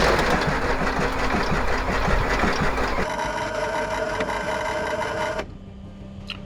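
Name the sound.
old abandoned airplane engine cranking, failing to start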